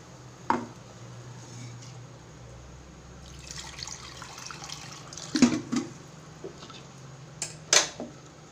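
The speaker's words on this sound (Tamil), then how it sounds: "தண்ணி ஊற்றி வச்சுங்க." Water runs from a tap or is poured into a pot of kara kuzhambu curry in a home kitchen, with a few sharp knocks and clatters of utensils, no talking.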